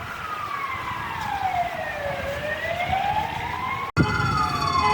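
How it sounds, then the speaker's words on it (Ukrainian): An ambulance siren wails on a city street in Ukraine, sweeping down and back up in long, loud glides, briefly cut off near the end before resuming with a sharper tone. "просто швидка."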